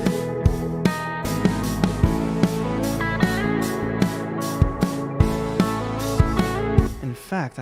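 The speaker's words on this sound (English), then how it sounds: "To make this more anthemic, let's add a bit more reverb." A looped music sample, rhythmic plucked chords over a bass note with regular percussive hits, drenched in added reverb that gives it a wide, anthemic wash, playing alone without talk.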